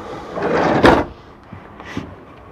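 A kitchen drawer in a 2003 Fleetwood Southwind motorhome slides open with a rolling rumble and thuds, followed by a softer sliding bump as it is pushed closed nearby.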